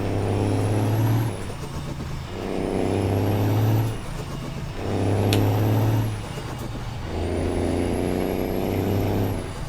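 A truck engine in American Truck Simulator drones and pulls through several gear-like cycles, each broken by a sharp hiss of the air brake releasing, close and steady.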